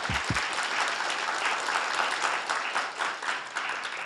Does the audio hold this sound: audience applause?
yes